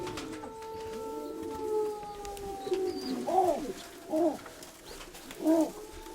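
Pigeons in a loft give several soft, rounded coos in short bursts, fairly close, over a low steady hum with faint background noise.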